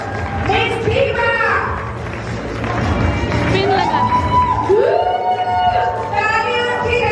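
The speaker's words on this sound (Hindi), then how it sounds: "Big round of applause for Sapna for winning the crowd" A crowd at a Women's Day celebration cheers and claps for a contest winner, a steady mass of noise with voices and music-like tones running through it.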